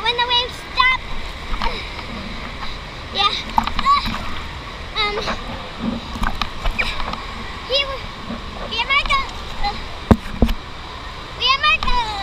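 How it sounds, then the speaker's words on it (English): Splashing water in the wave pool at Kalahari water park, with bursts of irregular splashes among lively children's voices and chatter. "We're jumping the waves right now because it's the wave."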